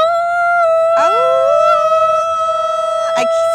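A woman imitates a wolf with her voice, giving a long, loud, sustained howl that bends in pitch, then holds, close and alone.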